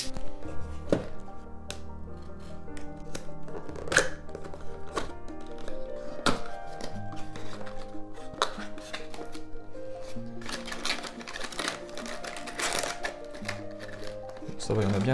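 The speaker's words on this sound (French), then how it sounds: "donc cutter, ciseaux, et c'est parti pour ce déballage" Lego Minifigures Series 23 packaging being cut open with a craft cutter and scissors, a run of close, sharp taps, snips and plastic crinkles, irregular and fairly loud, with some clattering toward the end.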